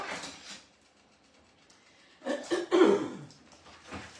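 A person in a kitchen with a sore throat coughs a few times, a short cough at the start, then a louder cluster of harsh coughs after a pause.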